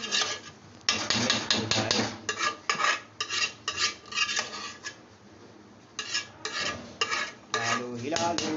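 A spoon scrapes and clatters around a pot as vinegar is stirred into a beef mixture, in repeated rhythmic strokes with brief pauses, close and clear, with no voices.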